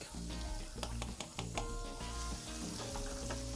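Garlic sizzling in about one and a half tablespoons of butter in a pan for fish sisig, a steady dense frying hiss with occasional sharper crackles and stirring clatter, close and continuous.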